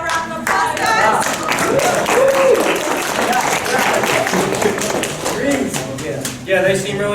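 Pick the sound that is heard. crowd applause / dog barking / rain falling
crowd applause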